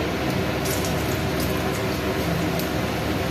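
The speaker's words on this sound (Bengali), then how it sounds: "আমি ওই তেলের মধ্যেই গোটা জিরে দিচ্ছি" Whole cumin seeds sizzle in hot oil left over from frying potatoes, a dense steady crackling hiss that stays close and even throughout with no voices.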